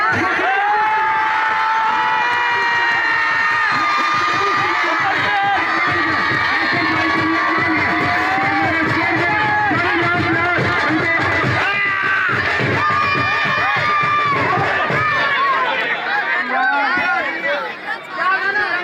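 A crowd cheers and shouts loudly and continuously at an outdoor Christmas celebration with stage weightlifting feats in a Faisalabad street, with many voices overlapping in a dense, excited roar.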